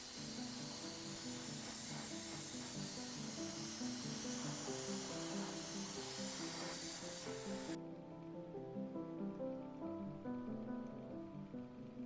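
An airbrush sprays aluminum metallic paint onto an Eduard P-51D Mustang scale model, a steady close airy hiss that runs unbroken and cuts off abruptly near the end, leaving a softer background hum.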